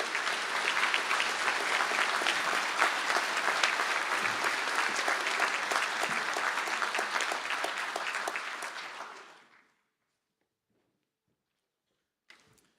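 An audience at a university conferring ceremony in Galway applauds the Postgraduate Diploma in Business and Accounting graduates, a full, sustained roar of many clapping hands that fades out after about nine seconds, followed by near silence and a faint knock.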